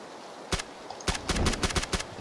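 Gunfire in PUBG (PlayerUnknown's Battlegrounds): a single loud sharp shot, a pause, then a rapid cluster of about six more close shots in quick irregular succession.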